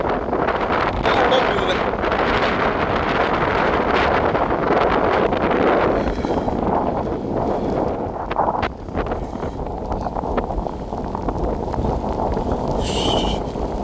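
Strong, steady cyclone wind roars across the microphone with surging sea noise underneath at a flooded coastal bridge, loud and continuous, a few brief voices breaking through.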